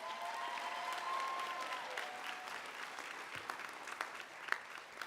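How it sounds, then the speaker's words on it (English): Audience applause for honor graduates at a Georgia Military College online leadership college commencement ceremony, a steady wash of clapping from a crowd at moderate distance, holding evenly and thinning slightly toward the end with a few sharper individual claps. "So we'd like to give those honor graduates a big round of applause."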